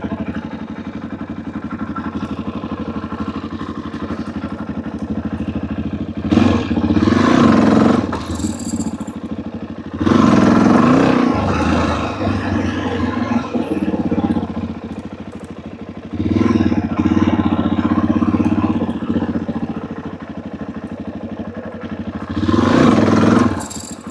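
Motorcycle engine revving hard during a wheelie attempt, several loud surging throttle bursts separated by quieter idling stretches, close and raw with some mechanical clatter.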